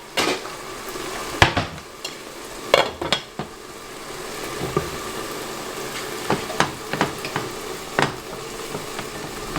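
Mushrooms and broccoli fry in a pan with a steady sizzle, broken by several sharp clinks and scrapes of a utensil against the pan, close and fairly loud, with no voices.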